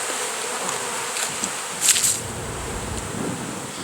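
Honey bees buzz steadily around a hive built inside a truck tire, a soft continuous drone close by, with a brief louder swell midway, and no voices.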